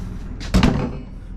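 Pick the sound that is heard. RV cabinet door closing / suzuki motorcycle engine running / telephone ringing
RV cabinet door closing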